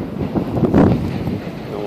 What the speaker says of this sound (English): The wind is already blowing.